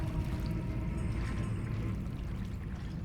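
Continuous low sloshing and swirling of a character wading through water in the horror game Alan Wake 2, a steady dense wash with no talk over it.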